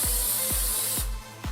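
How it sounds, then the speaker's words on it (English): Cooking spray hisses onto a cake pan for a chocolate cherry swirl cake, one steady close burst that cuts off after about a second. "we're going to spray the bottoms of our cake pan and around the sides with cooking spray"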